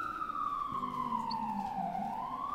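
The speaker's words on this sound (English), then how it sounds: "There's a siren going by." A loud emergency vehicle siren sweeps past in the street, its wailing tone rising and falling steadily over low traffic rumble, heard in the middle of a late-night livestream.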